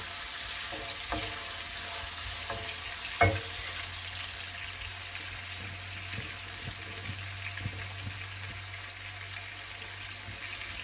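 Tinned tuna fries in plenty of oil over medium heat, giving a steady close crackling sizzle with a single sharp knock partway through and faint stirring clatter.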